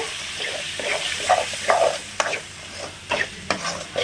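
Spoon stirring manathakkali kuzhambu ingredients (salt added) in a pan, with scraping strokes and a soft sizzle of frying, moderately close, no talking.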